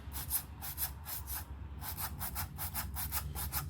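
A sander with a fine abrasive works a 3D-printed TPU part, giving repeated rhythmic rubbing strokes of soft, breathy scraping, each lasting a fraction of a second, close and fairly quiet.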